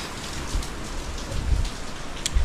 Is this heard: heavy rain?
yes